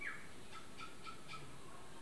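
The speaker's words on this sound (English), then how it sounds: "that bird you might be able to hear in the background is called a tui, native bird of New Zealand" A tui, a native New Zealand bird, calls faintly in the distance with a few short, evenly spaced notes against quiet indoor background noise.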